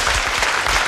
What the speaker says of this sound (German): Kleiner Applaus für die Dame.